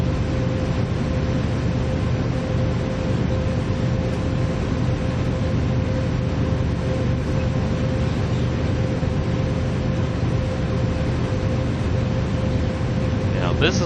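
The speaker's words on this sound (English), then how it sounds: "Going 55 miles per hour in an 88 car freight train" An 88-car freight train rolls at 55 miles per hour on Cajon Pass in Train Sim World 3, giving a steady loud rumble with a constant hum and no breaks.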